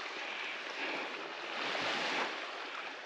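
Waves wash steadily against the Lake Superior shoreline at Pictured Rocks National Lakeshore in Michigan. The surf keeps up a broad, continuous rush with no breaks, mixed with some wind noise.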